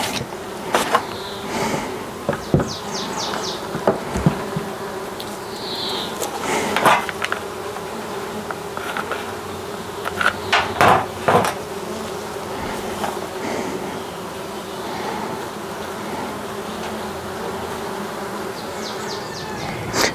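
Honeybees buzz around a hive during gentle feeding, a continuous droning hum with louder passes of individual bees close by and occasional faint knocks of hive equipment.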